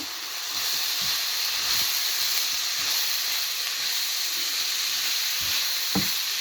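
Carrot and cabbage thoran fries in a pan, with a steady loud sizzling hiss and occasional soft scraping stirs throughout.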